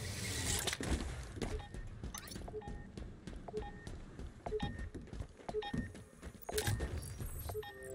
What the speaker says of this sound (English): It's just beeping I'm hearing